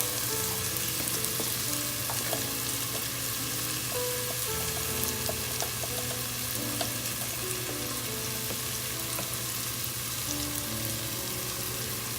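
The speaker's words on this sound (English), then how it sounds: "we're going to allow that to fry slowly and simmer for about 15 minutes until the onion becomes more translucent" Onion and garlic with dried oregano frying slowly in a pot of split pea soup base, giving a steady, even sizzle with faint crackles throughout, close and continuous, no voices.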